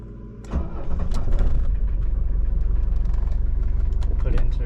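A Mercedes-Benz W123 diesel engine cranks and catches, then settles into a loud, steady, clattering idle close by, with a faint tone before the start and sharp ticks over the rumble.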